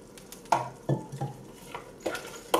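A spoon scrapes and knocks against a pot while frozen chopped spinach and spring greens are stirred into egusi soup, several soft irregular clinks and wet stirring sounds, close and moderately loud.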